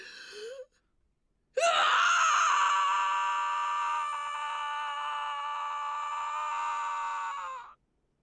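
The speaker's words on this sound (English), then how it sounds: "He continues to scream until the rain that begins to fall drowns out every trace of his voice" A man screams in the visual novel Code: Realize, one long, loud, sustained anguished cry that holds for about six seconds before cutting off, preceded by a short vocal sound.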